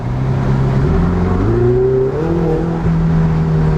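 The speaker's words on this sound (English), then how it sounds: "the exhaust note" A 2018 Ferrari 488 Spider's turbocharged V8 revs hard with the windows down, its exhaust note rising and falling in steady harmonic sweeps and holding loud and close for the whole stretch.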